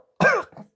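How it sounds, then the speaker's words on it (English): A single short, forceful cough from someone who has just sipped from the wrong cup, thinking it was coffee, heard close up and alone, with a throaty burst followed by a softer trailing catch. "Coughed it up a bit."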